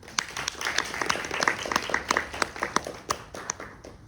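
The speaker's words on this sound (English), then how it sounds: "big round of applause to Chandrima" Audience clapping at a panel discussion event, a light, scattered patter of separate hand claps from a modest crowd, moderately close, lasting a few seconds and not building into a roar.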